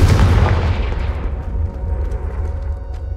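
A Confringo blasting spell goes off in Hogwarts Legacy, a loud, deep explosive boom that rolls out and slowly fades into a low rumble over a few seconds, with no talking over it.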